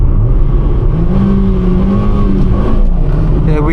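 A car in a country lane pulling hard past a national speed limit sign, engine loud and close inside the cabin, pitch climbing steadily as it accelerates.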